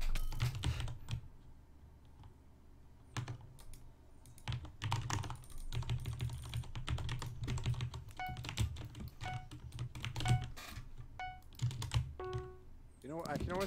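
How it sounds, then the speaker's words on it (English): Rapid keyboard spamming and jitter clicking during a PC game, heard as dense bursts of close, fast key taps and mouse clicks in clustered runs, with people talking over them. "I can hear you spamming your F5P and jitter clicking"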